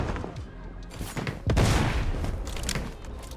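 Gunfire and a grenade blast in the shooter game BloodStrike: scattered sharp shots and thuds, then a heavy booming explosion that swells and rumbles away, with faint voice underneath.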